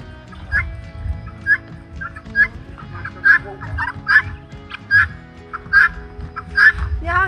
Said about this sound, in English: Guinea fowl are waiting.